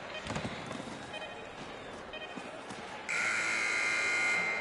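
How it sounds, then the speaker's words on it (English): A loud, sustained electronic buzzer ending an NHL 19 hockey video game cuts in partway through and holds steady to the end, following a stretch of busy arena crowd noise. "And the buzzer sounds."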